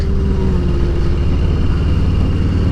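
A 2018 Harley-Davidson Heritage Classic motorcycle with a detachable front windshield, its engine rumbling steadily and loud while riding, a continuous low throb with wind noise and no pauses.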